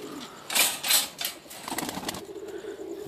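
Pigeons on a rooftop, with bursts of loud wing flapping close by, followed by softer fluttering and low cooing.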